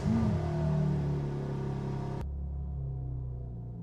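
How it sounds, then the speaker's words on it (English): BMW M4 Competition engine heard from inside the cabin during a cold start, a loud steady rumbling drone that drops abruptly to a lower, quieter idle partway through. "Let's just turn that ignition on."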